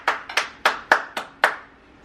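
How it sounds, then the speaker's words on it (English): Six crisp hand claps land in an uneven rhythm, close and loud, at a homestead family dinner with a children's clapping song, each clap ringing briefly before the next. "Everybody clap your hands."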